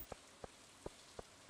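Rain falls in the Stardew Valley video game as faint, sparse droplet ticks, about five quick taps spread irregularly over a second and a half against a soft, quiet background hiss.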